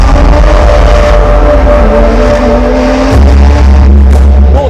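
A 2020 Porsche 718 Spyder's naturally aspirated 4-litre flat-six engine and exhaust roar loudly up close, holding a steady drone, dipping slightly, then swelling to a deeper, louder growl.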